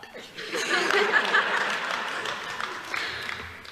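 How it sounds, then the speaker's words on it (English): A round of applause and light chuckling rise at an African American youth achievement awards ceremony. The clapping is moderately distant and fairly soft, lasting about three seconds before tapering off. "That was a round of applause from me for tying, by the way."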